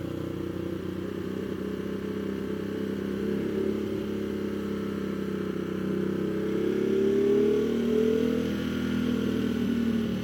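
A Ducati Multistrada motorcycle rides in first gear under trail braking, its mid-pitched engine droning steadily throughout, with a rising revving sweep near the end and no talk.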